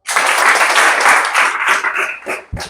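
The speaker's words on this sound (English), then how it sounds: "Clap for him." Loud, sustained applause from students in a secondary school classroom in Koidu, Sierra Leone, dense clapping that fades toward the end.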